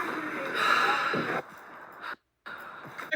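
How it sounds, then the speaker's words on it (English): A single deep, audible breath drawn in and let out slowly during a calm energy-medicine exercise, close and soft, ending in a short silent pause. "take 1 deep breath."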